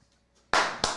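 A short burst of hand clapping in a radio studio, starting abruptly at mid-clip after near silence, loud and close, with a second brief surge just before the end.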